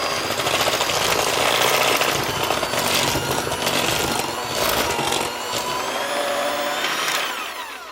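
An electric hand mixer runs on a low setting, mixing flour into a wet golden brownie dough. Its steady motor whir with beater clatter is close and continuous throughout.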